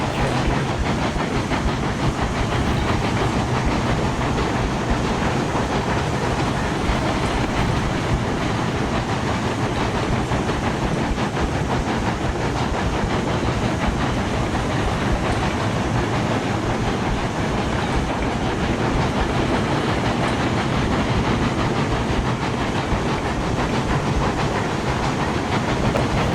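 A steam locomotive train rolls steadily along the track in the video game Railroads Online, with a continuous dense rumble and hiss and a faint clickety-clack running throughout, with no talking.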